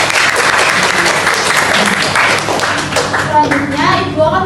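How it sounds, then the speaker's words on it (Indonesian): Schoolchildren in a classroom clap together loudly and close by, a busy burst of hand claps mixed with children's voices, fading toward the end as a few voices carry on. "Beri tepuk tangan dulu."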